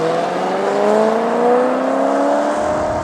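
A Maserati Quattroporte sedan with a Ferrari-built front mid-mounted engine revs up, its loud, smooth, close engine note climbing steadily in pitch over three seconds, with no one speaking.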